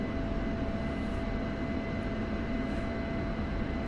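Steady broadband roar of an F-16C Block 52+ jet engine spooling up during taxi in a flight simulator game, continuous and even in loudness with a faint constant tone over it, no voices.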